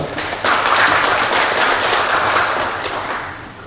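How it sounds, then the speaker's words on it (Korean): Applause from the audience at an architecture and urban space forum welcomes the next presenter. It starts abruptly after a brief moment, then holds as a loud, dense wash of clapping before easing off slightly at the end. "큰 박수로 맞이해 주시기 바라겠습니다."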